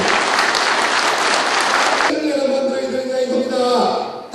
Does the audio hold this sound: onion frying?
no